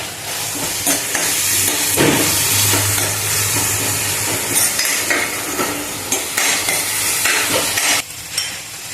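Tomato and salt frying in a spiced masala paste, stirred and mashed in the pan: a steady loud sizzle with scraping and knocking of the spoon running throughout, no one talking.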